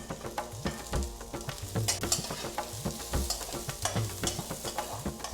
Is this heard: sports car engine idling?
no